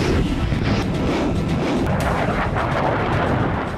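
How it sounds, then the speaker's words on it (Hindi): Grad multiple rocket launcher system firing on Ukrainian army positions, a dense, continuous roar of rocket launches and booming blasts sustained loudly for the whole stretch with no pauses. "अब रूस ने यहां grand multiple rocket launcher system से यूक्रेनी सेना पर बड़ा वज्रपात किया।"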